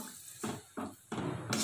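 Water is poured into a cooking pot of plain kurma after the spices have been fried, landing in three short splashing gushes, the last one longer and fuller.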